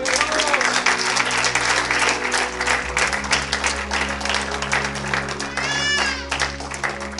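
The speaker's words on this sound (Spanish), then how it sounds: "Dale un fuerte aplauso a Cristo" Church congregation applauding Christ during a Spanish-language sermon, loud sustained clapping from a large crowd with voices and cries mixed through it and a brief lull partway.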